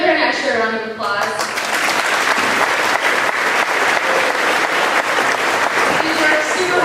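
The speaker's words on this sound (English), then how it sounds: "Can we give her an extra round of applause?" Loud, sustained applause from a high school graduation audience, dense clapping filling about seven seconds, with a voice briefly heard at the start.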